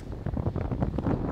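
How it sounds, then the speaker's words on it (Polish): Steady wind of up to 30 knots roars across the microphone with gusty rises, a breathy whistle blowing through a sailboat's shroud rigging close by, no voices. "Płyniemy, wiatr trochę gwizdże"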